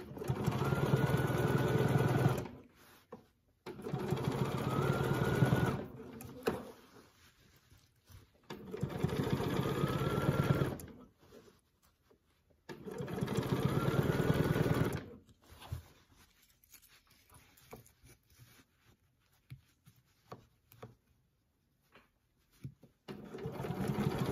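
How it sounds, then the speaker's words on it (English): A sewing machine ruler quilting a curved orange peel design runs in several bursts of steady mechanical whirring a few seconds long, separated by pauses with faint handling and fabric shifting. "the great thing about ruler quilting is you move the template and you move your quilt"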